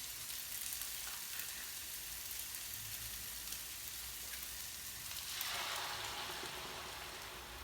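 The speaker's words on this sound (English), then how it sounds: "I'm going to start adding the cream in" Cream poured into a pan of sizzling chicken and prawns, a constant hiss of frying that swells louder near the end as the liquid hits the hot pan, no talk.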